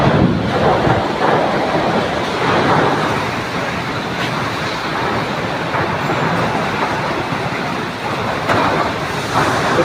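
Heavy storm with wind and torrential rain pouring down from above, a dense, steady roar that fills the whole stretch at close range with no voices.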